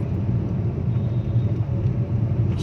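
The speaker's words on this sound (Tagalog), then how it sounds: "Grabe ang traffic dito, bumper to bumper." Bumper-to-bumper road traffic near Malolos, Bulacan, heard from inside a car as a steady low engine and road rumble, close and continuous, with no talking.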